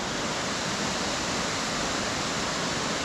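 Waterfalls roar in a dense, steady broadband rush, loud and constant throughout with no voices or other sounds.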